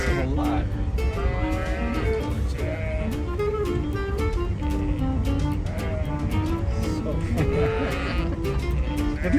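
Cattle mixed with sheep and goats in a Mongolian herd call out, low moos among frequent bleats from many animals nearby, with people talking throughout and a steady vehicle rumble beneath.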